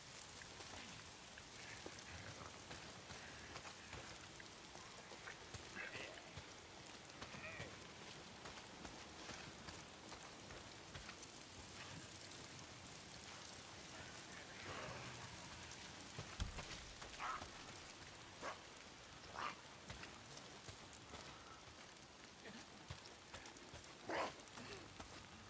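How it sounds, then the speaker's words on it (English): Steady rain falls in the Days Gone video game, a dense continuous patter on surfaces lasting throughout, moderately loud with occasional brighter drop splashes and no talk over it. "Oh, damn rain."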